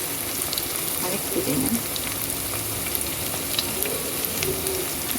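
Garlic sizzling with onions in a pan, frying steadily and close by with occasional stirring scrapes, under someone speaking.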